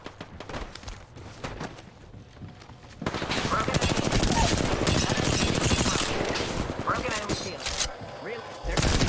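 Gunfire in the video game Apex Legends: scattered shots at first, then dense, rapid automatic bursts that stay loud and continuous for several seconds, with some speech mixed in.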